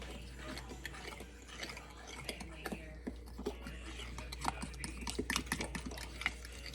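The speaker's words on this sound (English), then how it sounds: "Now I'm going to go ahead and stir that up before I put anything else in it." A fork stirs two cups of milk in a bowl, giving soft, quiet clinks and swishes in an uneven rhythm over a low steady hum.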